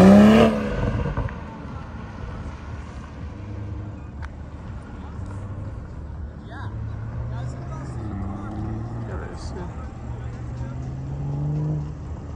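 A 2022 BMW (M240i, M340i xDrive or M440i) is driven hard on a race track, heard from inside as an engine drone that drops after a loud start, then rises and falls through gear changes, with faint voices underneath.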